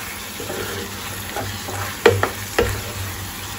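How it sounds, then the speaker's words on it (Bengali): Coriander, cumin, Kashmiri chili and turmeric fry in a pan while stirred, a steady sizzle broken by a few sharp scrapes and clacks of the spoon near the end. "এবার খুব ভালো করে মিশিয়ে নিয়ে আবারও এটা ভাজতে থাকবো"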